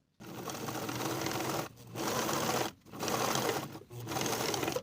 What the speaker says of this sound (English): we'll top stitch in place from the right side with a 1/4 inch seam allowance